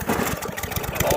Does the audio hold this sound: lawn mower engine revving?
yes